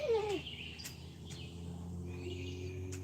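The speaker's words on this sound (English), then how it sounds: "It's a bird of some sort." A bird calls outdoors from a front porch, giving a short descending whistle at the start and then a few faint chirps over a quiet, low background hum.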